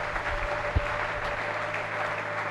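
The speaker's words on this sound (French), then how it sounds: "Acclame pour le Seigneur Jésus." A church congregation applauds in praise during a worship service, a steady dense wash of clapping with one sharper clap standing out, continuing evenly throughout.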